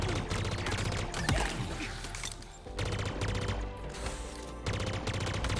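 Upgraded weapon in a Halo Infinite Big Team Battle match firing in bursts: clusters of rapid shots over busy game sound, close and fairly loud, with no talking.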